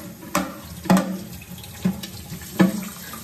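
Dishes rinsed under a running kitchen tap, with water splashing and clattering in four distinct bursts over a steady faucet stream, close and fairly loud, no talking.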